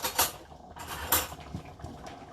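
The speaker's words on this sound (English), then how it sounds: "give it a good stir" Pasta stirred in a pot for marinara, heard as a few close scraping and clanking strokes of a utensil against the pot, spaced irregularly with quieter gaps between.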